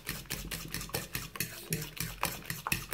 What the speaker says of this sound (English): So just whisk with the fork.